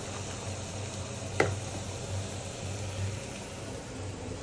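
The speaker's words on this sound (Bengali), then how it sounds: "তো আগে পেঁয়াজটা ভেজে নিতেছি।" Onions frying for mung dal give a faint, steady low sizzle with a single sharp tick partway through and no voices.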